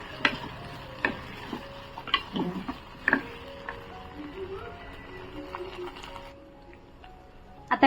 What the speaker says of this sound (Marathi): तुपामध्ये आहे ना छान असं आपण तांदूळात परतून घेऊया.